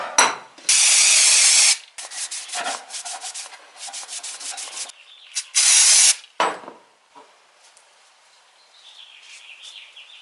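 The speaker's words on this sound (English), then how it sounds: "I'm just going to wipe this down with some brake cleaner, hit it with some steel wool" Brake cleaner sprayed from an aerosol can onto a motorcycle frame spacer for a Honda CBR/VFR800 hybrid project: two long, loud hissing blasts with rubbing and wiping between them, then quieter handling sounds.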